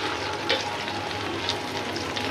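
Lentil fritters (dal bora) deep-frying in oil until reddish and crisp, a steady, close sizzling hiss with occasional small pops.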